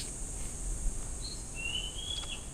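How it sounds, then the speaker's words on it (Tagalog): Birds call outdoors, giving a few thin, high whistled notes, one drawn out and rising, over a steady background hiss of insects, faint and somewhat distant with no talking. "Yan pala yung mga ibon."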